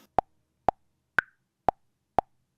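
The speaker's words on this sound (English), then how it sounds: "They have also changed the metronome sound." An Elektron Tonverk metronome ticks five evenly spaced, crisp clicks about half a second apart, with the middle click pitched higher as an accent, each alone against silence.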